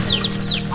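Rooster in the video game Wytchwood gives a few quick clucks, clear and close, short chirpy calls over a low steady game background hum with no talking.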